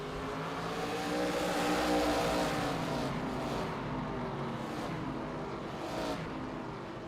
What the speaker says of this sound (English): As they head down the back straight, you can see the send from Anderson on De Vries, inside line from the 39